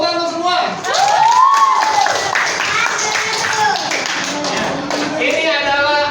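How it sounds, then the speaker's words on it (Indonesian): A group of children in a classroom session claps and taps rhythmically for a lively, continuous stretch, with overlapping voices and excited cries throughout. "100 tepuk tangan untuk semua"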